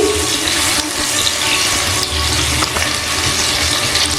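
Pieces of rohu or catla fish fry in hot oil in a home kitchen, giving a continuous loud hiss and crackle with small pops, steady throughout.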